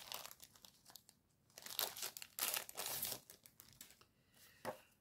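Tartan-patterned wrapping paper being torn and unwrapped from a package, with close, bursty crinkling and ripping that comes in irregular surges and short pauses, no voices.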